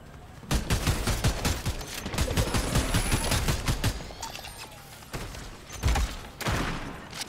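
Fortnite gunfire rattles in dense, loud rapid bursts, including automatic turret fire, with brief lulls and a few single heavier shots toward the end.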